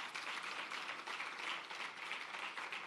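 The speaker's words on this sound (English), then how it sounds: "Give her a round of applause" Applause from an audience at a launch event, steady dense clapping sustained throughout, fairly faint and distant, with no voices over it.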